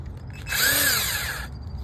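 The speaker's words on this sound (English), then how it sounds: "1/4 inch impact drive." A quarter-inch impact driver whirs up for about a second, a loud, close whine with a rising and falling pitch that then cuts off, and no one speaks over it.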